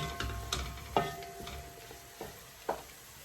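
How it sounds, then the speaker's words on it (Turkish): Ingredients for Moroccan-style harira soup sauté in a pan, giving a faint sizzle with a few sharp spatula taps and scrapes spaced irregularly over a few seconds. "Bunları da bir güzel kavuracağım."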